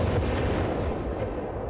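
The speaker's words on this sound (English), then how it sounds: "a stray rocket then hits the Ace mortar crew" A stray rocket strikes a mortar crew in Company of Heroes 3, a deep rumbling blast that rolls and fades over under two seconds amid ongoing battle noise.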